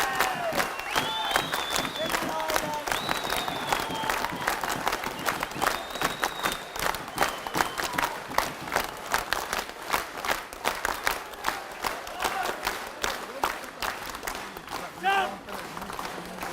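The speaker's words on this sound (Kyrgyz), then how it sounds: "Мынакей дагы да Бузурманкулду колдоолор, кол чабуулар башталды." Crowd applause with scattered cheering fills a wrestling arena during a 66 kg bout, a steady dense clatter of clapping that swells and persists, with a commentator talking over it.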